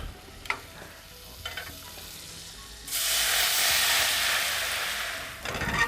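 Butter and red wine cook down in a pan. A few quiet clinks are followed by a sudden loud, sustained sizzle that fades slightly and ends with a scrape of stirring.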